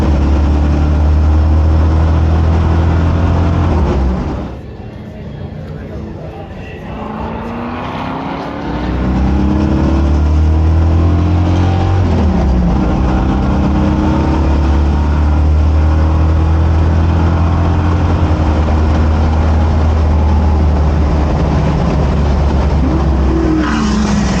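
A Ford Mustang at the Paul Ricard circuit holds a loud, deep engine roar that drops briefly around a gear change. The engine then climbs again and sustains a strong rev near 5500 rpm, recorded close up.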